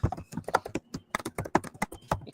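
Fast, hard typing on a computer keyboard, close and crisp with irregular bursts of loud key strikes and no talking.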